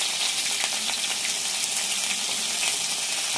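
Tomato skins sauté in a hot pan for bangus sisig, giving a steady, even, close sizzle of frying with no pauses and no talking.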